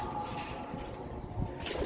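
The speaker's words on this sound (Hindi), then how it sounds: "शाहिद भाई, ये असल कबूतर है" Soft pigeon coos murmur faintly against a steady background hum, low and muffled, with no voices.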